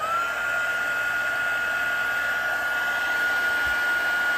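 A heat tool blows hot air to melt gold embossing powder on a stamped tree, a steady close whirring hiss with a faint high whine, running evenly and without talk.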